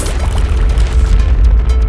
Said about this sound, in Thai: ระเบิดยับยับอะ